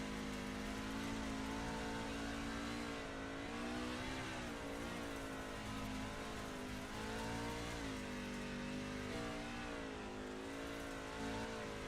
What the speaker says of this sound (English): you can hear it on the onboard. Throttle sounds completely different